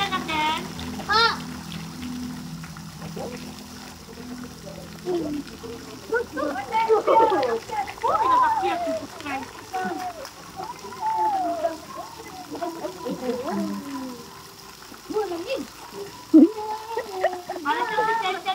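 Children diving and jumping into water, with continuous splashing and churning under excited kids' voices and adult talk throughout, fairly loud and close.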